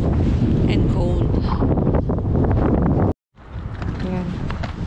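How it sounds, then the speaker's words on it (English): Cold wind blowing outdoors in Iceland, a steady loud rush buffeting the microphone throughout, cut by a brief dropout near the end, with a voice talking faintly under it. "It's windy here and cold."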